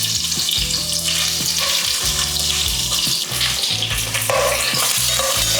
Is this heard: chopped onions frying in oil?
yes